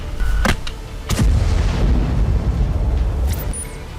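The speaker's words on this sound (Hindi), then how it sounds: "इसी सुरंग या बंकर से फिर हमला किया गया और टैंक में जोरदार धमाका हुआ।" A powerful blast hits a tank in war footage from Gaza: loud booming explosions, one sharp report then a heavier detonation followed by a long rumbling roar, with faint distant bangs later.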